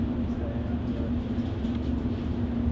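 A 1938 Stock London Underground train on the Metropolitan line between Harrow-on-the-Hill and Uxbridge rumbles steadily inside the carriage, a constant low hum and rattle without pause.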